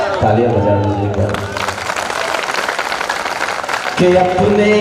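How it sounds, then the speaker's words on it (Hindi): A mushaira crowd in Banaras breaks into a burst of applause and clapping between lines of recited poetry, with the poet's voice heard before and after the clapping. "तालियां बजा दीजिएगा।"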